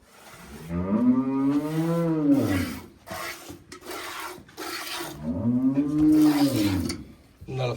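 A Cholistani cross cow gives two long, loud moos close by, separated by a pause filled with rubbing and scraping noises.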